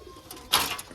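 A pet pigeon gives a single brief, faint coo nearby, soft and muffled, lasting only a moment.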